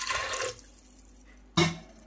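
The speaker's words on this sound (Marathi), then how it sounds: "मी पाणी यामध्ये घातलेलं आहे" Water splashes into a bowl of chickpeas set to soak for ghugni, a short pouring gush, then a quiet gap and a second sharp splash, close and moderately loud.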